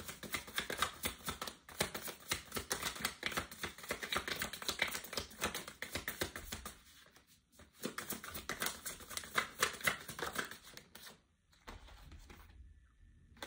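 Tarot cards are shuffled and drawn from the deck in a dense, continuous run of crisp riffling and flicking clicks, close and steady, with a few brief pauses near the end.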